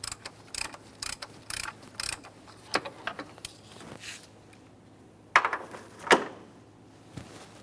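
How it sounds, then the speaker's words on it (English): A 24mm socket ratchet removes the oil pressure sender on a 2015-2019 Subaru Outback 2.5L H4, giving close, irregular clicks followed by a couple of sharper metallic knocks. "For the removal of the original oil pressure sender, we're going to be using a 24mm socket."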